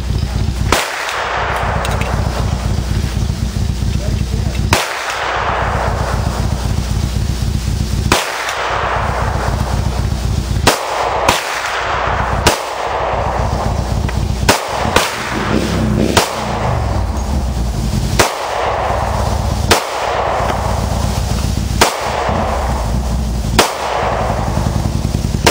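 Rifle fire from an HK91 clone at an outdoor range: loud, sharp shots ring out one at a time at uneven intervals, each with a brief echoing tail, and no one speaks.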